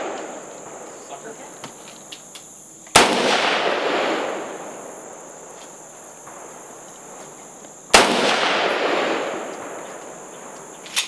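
Two loud, sharp gunshots several seconds apart, each with a long echoing decay, fired outdoors from an AR rifle and a shotgun; quiet ambient hiss and faint insect chirping fill the gaps between shots.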